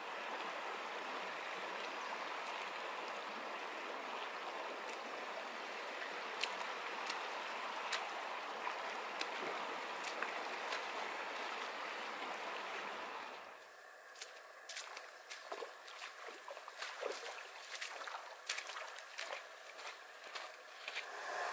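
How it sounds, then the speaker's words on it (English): A babbling brook runs through Coyote Gulch near Escalante, Utah, a steady broadband rush of moving water at close range, dropping to a quieter trickle about two thirds through with scattered small splashes and footstep-like knocks. "there's some moving water behind me and kind of a babbling brook"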